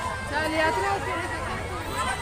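Dense crowd hubbub at the Peth yatra village fair in Nashik during Holi, a steady babble of many overlapping voices and chatter filling the space at moderate level without pause.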